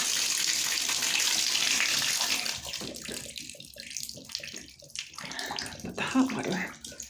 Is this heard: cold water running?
yes